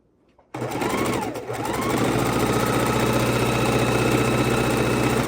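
After a brief silence, a sewing machine starts up and runs continuously, stitching scrap fabric pieces together for a quilt, with a loud, close, steady mechanical whir and faint rattle throughout.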